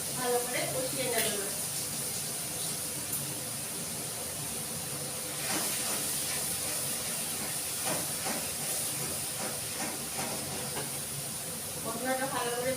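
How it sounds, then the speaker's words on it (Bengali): Masala for kabuli chana ghugni frying in a pan, a continuous steady hiss and sizzle with occasional crackles, heard under someone talking through much of it. "মশলাটা ভালো করে কষিয়ে নেব।"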